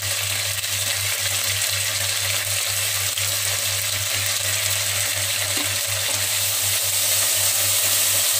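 Onions fry in oil in a pan for chicken biryani, making a continuous loud sizzle with a low steady hum from the stove or kitchen beneath it. No one speaks.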